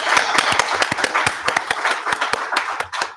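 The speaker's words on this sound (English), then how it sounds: "if we just have a bit of a round of applause for Kieran." Scattered hand clapping from an audience at a discussion panel on dealing with the past and victims, a modest round of uneven claps close by lasting a few seconds.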